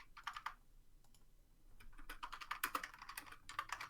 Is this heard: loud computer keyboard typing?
yes